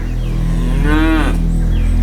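A stubborn buffalo gives one loud, drawn-out moo lasting about half a second, rising and falling, heard alone over a steady low rumble.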